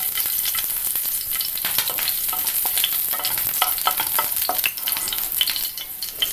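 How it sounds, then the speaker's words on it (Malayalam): Garlic drops into hot oil for a vegetable and potato masala curry, giving a dense, close crackling sizzle with bright spitting pops and some stirring, continuous throughout without any talk. "ചൂടായ എണ്ണയിലേക്ക് വെളുത്തുള്ളി ഇട്ട് കൊടുക്കാം."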